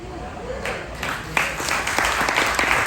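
An audience breaks into applause partway through a talk, the clapping swelling quickly into a dense, steady wash with some voices mixed in.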